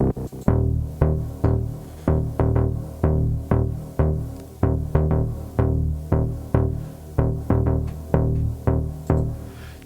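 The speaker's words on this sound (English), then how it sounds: "I'm also using Wave's flow motion stereo synth, which is doubling it" Layered synth bass, doubled by the Waves Flow Motion stereo synth, pulses in a steady run of plucky, decaying notes with a deep rounded tone, loud and uninterrupted by any talk.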